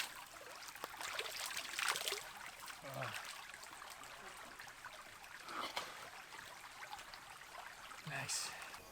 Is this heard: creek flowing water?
yes